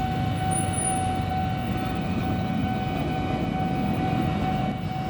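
A KRL commuter train bound for Nambo rumbles past a level crossing, a loud steady roar with a sustained tonal hum and no voices throughout.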